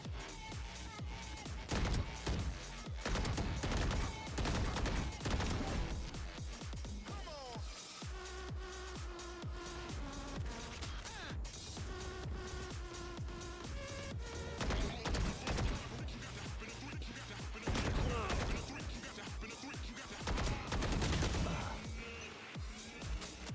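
Rapid bursts of gunfire from a shooting video game, with repeated shots and volleys over a dense, busy game soundtrack, loud and close throughout.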